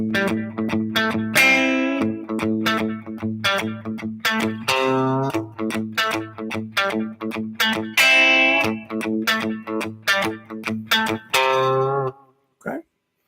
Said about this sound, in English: work on some palm muting with some single note riffing kind of